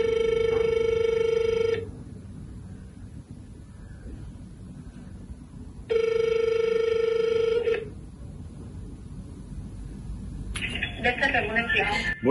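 A telephone rings out over the line while calling the public health office for Bucharest's sector 4, two long ring bursts separated by a silent gap, then a voice answers at the end.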